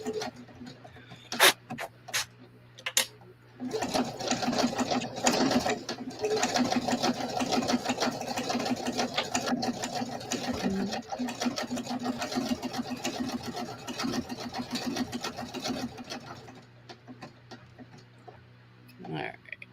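A sewing machine stitching during a home sewing session, a steady mechanical whirring hum sustained for about thirteen seconds, close and clear, with brief speech and handling sounds around it.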